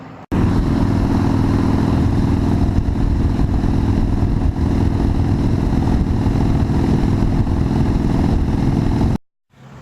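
A motorcycle riding on Highway 14 toward Sheridan on a trip to Sturgis, with a constant loud drone of engine and wind throughout before it cuts off abruptly.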